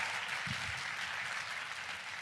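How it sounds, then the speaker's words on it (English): An audience at a school district address claps for a performer, a steady wash of applause, fairly distant and even, holding throughout without voices. "Can we give Sierra another big round of applause?"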